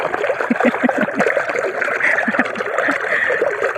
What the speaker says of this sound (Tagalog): yan ang lakas ng tubig eh